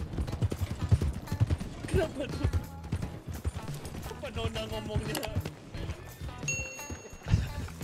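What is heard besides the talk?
horse hooves clip-clopping in Red Dead Redemption roleplay video game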